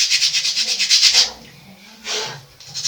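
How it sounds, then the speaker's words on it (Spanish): Sandpaper rubs over a painted vintage wooden side table with a patina finish in quick rhythmic back-and-forth strokes, close and clear, then pauses before one more pass. "vamos a lijarla un poco"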